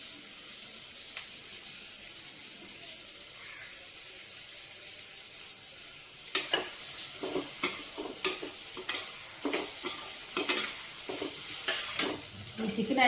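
Onions, green chilies and curry leaves fry in a pan for a Telugu gongura chicken curry, a soft steady sizzle at first, then louder with repeated sharp stirring scrapes and clatters from about halfway on, no talking.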